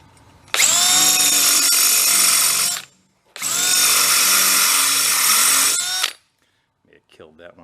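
A power drill spins at high speed boring into a busted stud, two sustained high-pitched whining bursts of a few seconds each separated by a short pause, loud and close, followed by faint rustling.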